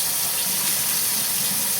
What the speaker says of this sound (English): now I'm going to rinse the wheat berries.